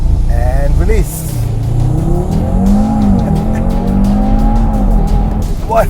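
An Audi TT launches with traction control and ESC switched off, its engine revving loudly while the tires squeal and skid in a rising, wavering whine. The car sounds close, and a voice speaks over it.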